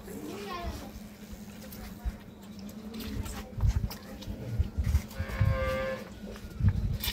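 Cattle on a village farm in Dinajpur, Bangladesh, with dairy cows and calves, moo several times at middle distance over a steady low hum, with voices talking nearby.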